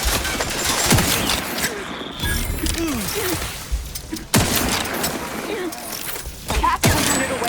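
Gunfire in The Outer Worlds 2, with scattered loud shots and sharp bursts over mechanical clanks and ratcheting effects, and game voices speaking at points.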